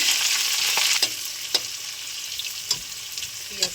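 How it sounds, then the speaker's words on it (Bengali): Chopped onions fry in a pan with cumin and black pepper, giving a steady, bright sizzle close by, broken by several sharp stirring scrapes. "পেঁয়াজটা একটু ভাজা ভাজা হবে"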